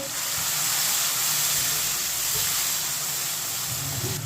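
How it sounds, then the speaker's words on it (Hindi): A couple of spoonfuls of water go into hot frying onion, ginger and garlic, and the pan answers with a loud, even steamy hiss and sizzle that holds for several seconds. "2 चम्मच पानी डाल लेंगे,"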